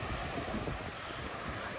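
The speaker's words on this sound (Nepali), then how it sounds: "यहाँ बबाल छाल हान्दा छ क्या" Waves wash against the Croatian coast in a soft, continuous roar, fairly faint and blended with wind buffeting the microphone, with no voices.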